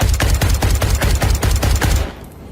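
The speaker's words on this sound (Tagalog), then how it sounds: "Umalingaw-ngaw ang mga putok." Gunshot sound effect in a Filipino aswang horror audio drama: a loud, rapid burst of about a dozen evenly spaced shots, close and punchy, cutting off abruptly into quiet.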